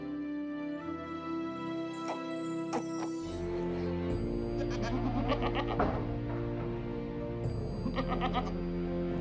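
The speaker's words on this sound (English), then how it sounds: "Regular visits to our neighbor Bob provided this unpasteurized goat's milk" Goats on a neighbor's dairy farm bleat repeatedly, several overlapping calls close by over a steady rural background hum.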